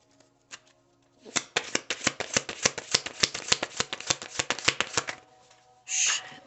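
Tarot cards being shuffled by hand: a rapid run of crisp, close riffling snaps lasting several seconds, ending in a short soft burst of cards settling together.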